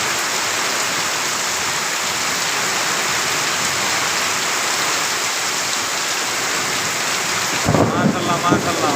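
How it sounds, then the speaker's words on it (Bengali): Heavy monsoon rain pours steadily in Mohanganj, Netrokona, a dense continuous roar close by that holds level throughout, with a brief louder rustle or movement near the end. "বিশাল বৃষ্টি বিশাল আল্লাহর রহমত নাজিল হয়েছে আমাদের উপর"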